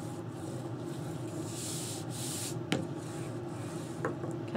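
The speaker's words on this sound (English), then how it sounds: "Burnish that, turn it over, and burnish the other side." Cardstock for a wedding album being burnished by hand, faint soft rubbing strokes back and forth with a couple of light taps, close and quiet, no talking.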